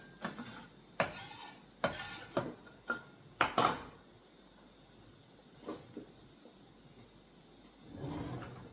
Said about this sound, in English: I'm going to clean off my cutting bowl